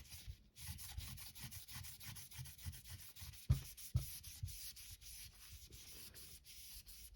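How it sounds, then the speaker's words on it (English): Soft rubbing of wax being worked onto a surface by hand, with steady back-and-forth strokes, quiet and close, and a couple of light knocks midway. "I'm going to apply the wax to the surface."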